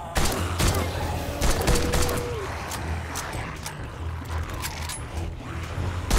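Rapid bursts of pipe SMG gunfire firing 7.62 rounds during a horde night in the 7 Days to Die video game, shots repeating loud and close over a dense background of game noise.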